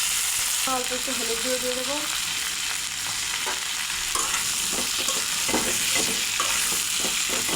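Cut pointed gourd (potol) fries in hot oil in a pan, a loud, steady crackling sizzle with stirring; a voice speaks briefly near the start, then the frying carries on alone with spatula clatter.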